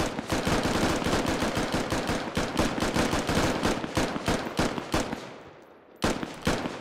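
Sustained machine-gun covering fire in the game Squad, a dense rapid burst of loud, close shots that runs for several seconds, dips briefly into quiet, then resumes with a few more shots.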